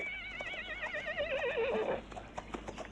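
A horse whinnies loudly with a long, wavering neigh that trails off, followed by faint clip-clop and background noise.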